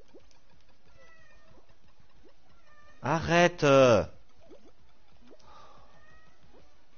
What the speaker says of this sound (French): Tiro, arrête de miauler, tu sais pas pourquoi tu miaules.